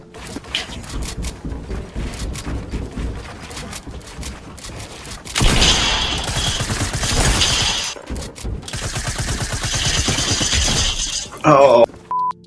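Rapid gunfire bursts and shattering impacts from a Fortnite match, dense and loud throughout with a brief gap near the middle, ending in a short electronic flourish; a voice speaks briefly.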